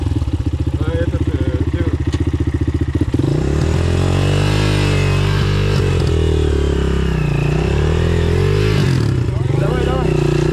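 Hard enduro motorcycle engine revving nearby on a forest trail, a loud throbbing idle that rises into sustained revs with pitch swings, with people talking over it.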